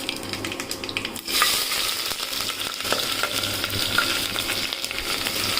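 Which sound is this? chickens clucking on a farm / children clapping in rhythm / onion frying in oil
onion frying in oil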